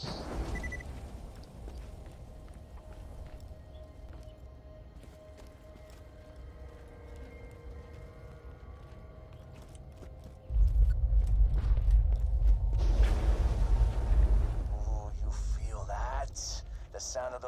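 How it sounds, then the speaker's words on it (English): A low rumbling earthquake tremor in the video game Borderlands 2 swells suddenly partway through and stays heavy, with clanking and mechanical noises over it and voices talking throughout. "Earthquakes marks my drills getting closer and closer to the vault."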